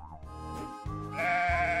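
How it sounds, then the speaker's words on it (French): A white sheep in a children's cartoon bleats in one long, wavering, harmonic call that swells louder toward the end, close and clear with no talking over it. "Ah non, c'est un mouton blanc."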